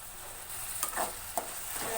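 Tomatoes and sprouted green gram being stirred in a pan, soft scraping strokes with a faint steady sizzle underneath, a few distinct spoon scrapes standing out near the end.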